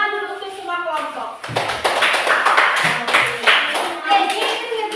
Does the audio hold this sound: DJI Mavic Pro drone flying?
no